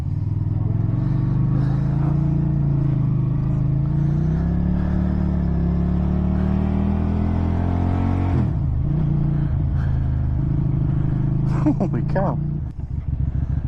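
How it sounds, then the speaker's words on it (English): A 2023 QJ Motor SRV300 motorcycle engine revs up steadily and loudly, pitch climbing as it accelerates before easing off near the end, with a rider's brief remark heard over the engine. "A burly sounding engine."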